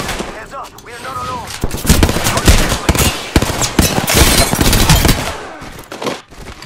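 Apex Legends gunfire rattles in loud, rapid automatic bursts with short gaps between them, sustained for several seconds.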